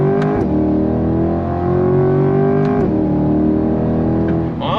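A 2023 Chevrolet C8 Corvette 70th Anniversary Edition accelerates hard with the engine revving loudly and continuously, pitch climbing through the gears with brief dips at the upshifts, heard close from inside the car.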